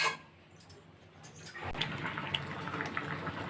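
A pot of home-cooked food boils on a stove, quiet at first, then a soft bubbling hiss rises with scattered small pops, all fairly faint and close.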